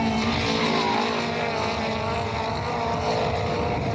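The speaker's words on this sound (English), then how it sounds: "you can quite clearly hear the manifold problem and the subsequent loss of power for the BMW here" A Sasol BMW touring car at the 1998 Aldo Scribante race loses power from a manifold fault, its engine a loud, dense, unbroken drone that holds steady throughout with no clear rises or drops.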